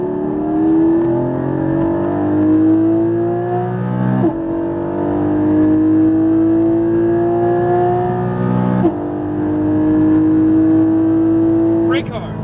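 A Porsche Cayman GT4 at full throttle on a track at Speed Vegas, its engine note climbing loud and close through three pulls, with brief breaks at the gear shifts.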